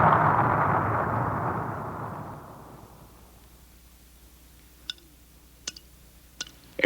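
A firecracker explosion slowed down 1,200 times becomes a long, loud, deep roar that gradually fades over several seconds, followed by quiet and a few sharp faint clicks.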